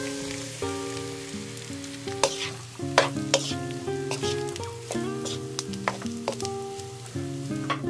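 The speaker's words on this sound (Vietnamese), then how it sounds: "Rồi mình cho cơm vào chiên với lửa vừa." Leftover cooked rice stir-fries in a pan over medium heat with a steady near sizzle, broken by repeated scraping and tossing knocks, all beneath background music and without speech.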